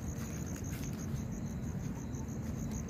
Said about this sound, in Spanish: ¿Escuchan los grillos?